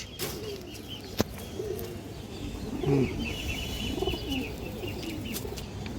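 Ring-eyed Gorra pigeons of an old line coo softly in steady low phrases, with one sharp click early on and no talking.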